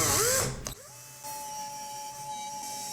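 Power drill boring holes in an audio amplifier case: a loud whine that cuts off abruptly, then a steady mid-pitched motor hum carrying on at moderate level, close up with no talking.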